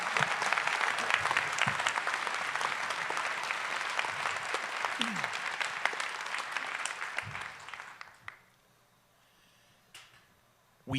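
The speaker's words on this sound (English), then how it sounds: "Let's give a round of applause to our all-star panel." An audience at a Las Vegas author conference panel session claps in sustained, dense applause for about eight seconds, then it fades out abruptly to near silence with a few faint stray sounds.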